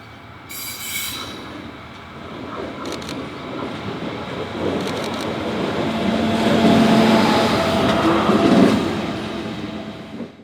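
A light-engine locomotive, CSR 24, rumbles past on standard-gauge rails in Melbourne, growing louder as it approaches, with a steady rolling roar and faint metallic squeal near the end.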